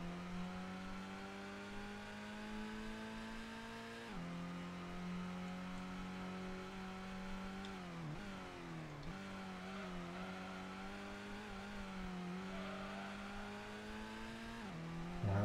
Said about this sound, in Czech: Zkusím trochu poslouchat otáčky teďka, co to tam vyvádí ta automatika.